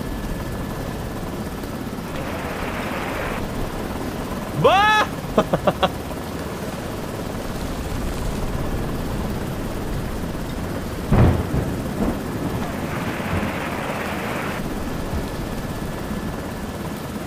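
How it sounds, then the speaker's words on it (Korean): A storm in a video game set aboard a wrecked ship at sea, heard as steady roaring wind and rain noise with rumbling thunder surges and a helicopter drone throughout; one brief spoken word cuts in. "폭풍 소리 때문에 뭐라는지 하나도 안 들려"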